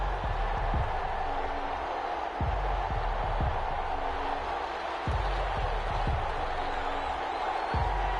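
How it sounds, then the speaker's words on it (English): A stadium crowd in an EA Sports NFL video game roars steadily before a Philadelphia Eagles versus Detroit Lions matchup, a dense, continuous wall of cheering with a few dull low thumps underneath. "This crowd is ready as their guys get set to match up between the Philadelphia Eagles and the Detroit Lions."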